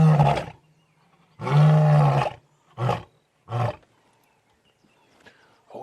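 A male lion roars during a sunrise safari drive: one long, deep, loud roar, then several shorter grunting calls that trail off into quiet.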